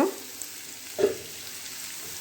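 Egg and chopped tomato frying in a pan give a steady soft sizzle close by, with a brief stir or spatter bump midway.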